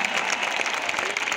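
Audience applause at a concert in Málaga as the band is introduced, a dense steady clapping from a large crowd that fills the whole moment without a break.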